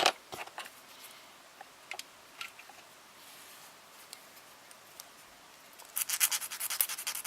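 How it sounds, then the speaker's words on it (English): Plastic model kit parts for a 1:72 Hasegawa SR-71 Blackbird being filed down to remove gate nubs, heard as soft, scattered rubbing and scraping strokes up close, growing denser and louder near the end. "I think I might have to file these down"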